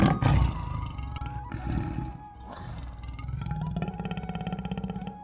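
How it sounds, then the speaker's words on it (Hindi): A large, fierce tiger roars as a sound effect in an animated Hindi story. Loud snarling roars and growls come in bursts over a layered tonal effects backdrop. "जंगल से एक बड़ा और खूंखार बाघ गांव में घुस आया है"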